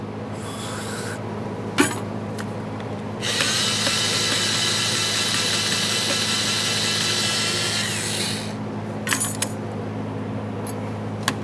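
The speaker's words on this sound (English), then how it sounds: "For each of these ports, we'll use some parts cleaner and a bore brush." Bore brush scrubbing the brake caliper slider pin ports of a 2009-2014 Nissan Maxima with parts cleaner, a steady rapid scratching for several seconds between a few light clicks and knocks.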